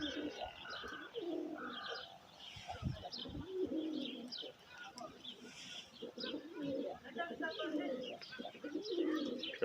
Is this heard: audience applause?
no